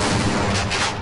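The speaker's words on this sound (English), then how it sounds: "That auto gun actually helps you." Automated sentry gun in Half-Life firing a dense, continuous burst of loud gunfire that fills the whole second without pause, with no voices.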